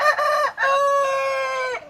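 Backyard chickens in Baguio, with a rooster crowing loudly and close in two long stretched calls, the second held longer before trailing off.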